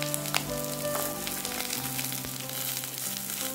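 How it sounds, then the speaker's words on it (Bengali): Potato and pointed gourd pieces fry in oil in a pan, giving a loud, continuous, even sizzle with no voices. "আলুর সাথে পটলটাকেও এবার ভালো করে ভেজে নেব।"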